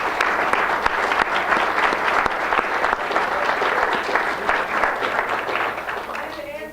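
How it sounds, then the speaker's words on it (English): Banquet crowd applauding the alumni committee at a Forest Hills Foundation for Education event, with steady sustained clapping from many hands filling the room that tapers slightly toward the end. "let's give these folks a round of applause"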